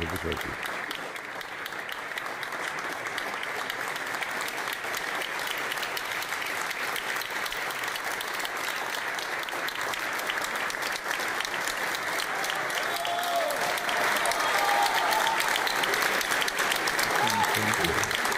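A long standing ovation fills the Chamber of Deputies, dense continuous clapping from many hands that holds steady and grows slightly louder, with faint voices threaded through it.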